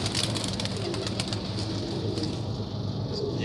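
Domestic pigeons coo softly in a loft amid a steady background hum, with low murmuring calls repeating throughout and no talking.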